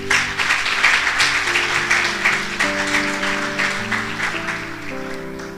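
Church congregation applauding to the Lord during a Sunday service, a steady wash of many hands clapping over sustained organ or keyboard chords, fairly loud and continuous.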